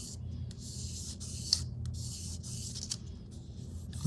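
Plastic parts of a Tamiya 1/24 Nissan Z model kit are sanded by hand in close, soft, repeated rubbing strokes with short pauses between them.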